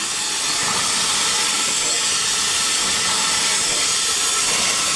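Wood-fired steam engine running with a steady, loud hiss of steam filling the whole stretch, a continuous broadband rush with no breaks.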